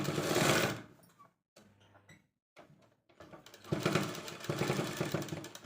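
A sewing machine stitches a girl's uniform skirt in a loud, rapid whirring burst, falls to soft handling noises and brief pauses, then starts another sustained stretch of stitching.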